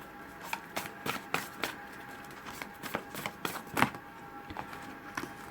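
Tarot cards are handled and shuffled to draw an outcome card, with a dozen or so crisp close snaps and riffles in an uneven rhythm and quiet pauses between them.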